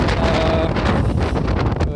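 Strong wind buffeting the microphone, a loud rumbling roar with gusty fluctuations throughout, no speech.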